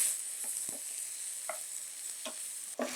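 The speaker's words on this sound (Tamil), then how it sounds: "இது எல்லாத்தையும் சேர்த்து நல்லா ஹை ஃப்ளேமில் ஒரு டாஸ் கொடுத்துட்டு" Sesame chicken fry sizzles steadily in a pan over a high flame, with periodic scraping and tossing clatters from stirring breaking through the constant hiss.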